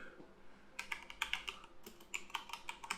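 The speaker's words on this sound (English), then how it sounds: "you can type Google Drive" Rapid keystrokes on a computer keyboard, a run of close, crisp clicks that begins after a quiet moment and continues in two quick bursts over faint room hiss.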